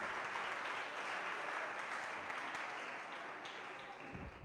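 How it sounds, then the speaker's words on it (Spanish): A church congregation applauds during a sermon, giving a steady, dense wash of clapping from many hands that carries on evenly for several seconds before thinning slightly at the end. "denle un aplauso al Señor"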